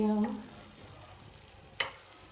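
Date halwa cooks gently in ghee over a low flame with a faint, quiet sizzle, a brief voice at the start and one sharp scrape of a spoon near the end.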